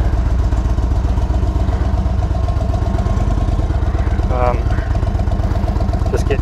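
Indian Chief Dark Horse motorcycle engine running steadily on a test ride, a loud, continuous low rumble with throbbing pulses throughout and a brief rising rev near the end.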